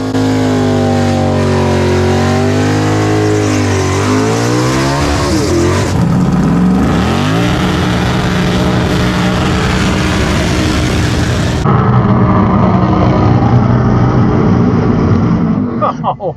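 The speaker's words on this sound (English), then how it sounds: "What a freaking burnout that was." Drag car doing a tire burnout, a loud engine held at high revs with shifting harmonic pitch, sweeping down then settling into a sustained roaring drone, abruptly changing tone near the end.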